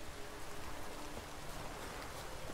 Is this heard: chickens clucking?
no